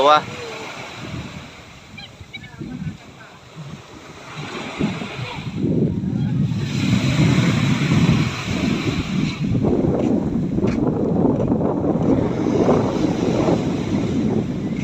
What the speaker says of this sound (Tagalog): Ayan, may mga bangka pang parating.